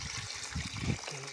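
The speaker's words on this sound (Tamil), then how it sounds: "தண்ணி ஊற்றலாம்." Water poured by hand onto onion plants in a home garden, a short splashing trickle heard close by with faint background noise.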